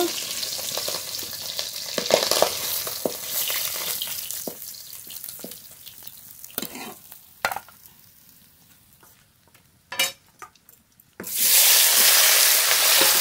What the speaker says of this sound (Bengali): বাকি মাছগুলো একবার করে দিয়ে দিয়েছি, এগুলো ভেজে নেব।